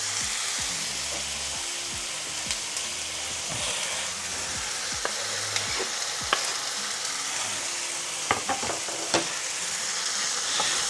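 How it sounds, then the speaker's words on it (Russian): Garlic sizzles and fries in a pan for chicken goulash, a steady close crackle with occasional sharper pops and stirring scrapes. "И дадим немножко пожариться."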